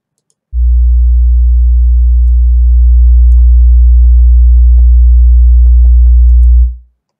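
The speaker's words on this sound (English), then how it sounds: "This is going to be a steady 60 hertz tone." Steady 60 Hz sine tone from an online tone generator, a loud, constant low hum that starts abruptly, holds for about six seconds and fades out, with faint clicks over it.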